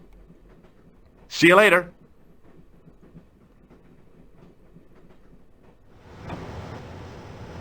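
A train rolls along in an adventure game scene, and its rumble swells up toward the end after a quiet stretch. A brief line of dialogue comes first over a low background hum.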